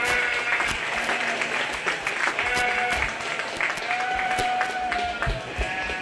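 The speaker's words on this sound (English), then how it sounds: "Let's give them a nice round of applause." Sustained applause from the audience at a county fair 4-H/FFA sheep and little lambs show, steady dense clapping with a faint lamb bleat and some background chatter mixed in.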